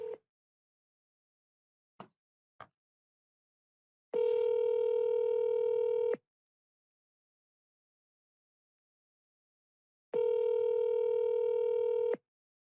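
Outgoing telephone call with a few short dial clicks followed by two long ringback tones, each about two seconds, separated by a long pause, clear and alone with no talking.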